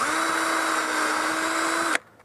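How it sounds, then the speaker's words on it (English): A power drill pre-drills a hole into a cedar 2x8 board while building a curved dock deck, one steady loud whine lasting about two seconds before stopping abruptly. "I'm going to pre-drill a hole right here"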